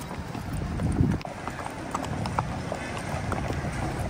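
Marwari horse hooves clip-clop in a steady, uneven walking rhythm on a canal-side path while ridden, fairly close and clear against light outdoor background noise.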